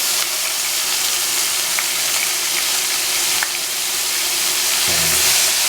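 Pumpkin pieces with salt, turmeric and green chili sizzle steadily in a hot pan, a loud even frying hiss with occasional stirring clinks and a scraping stir near the end.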